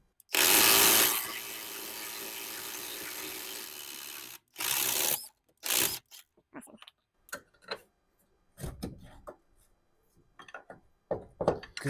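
A wrench works a bolt on an old Subaru: a loud sustained scraping burst, then sharp intermittent clicks, clanks and short metallic bursts close by, with no talking.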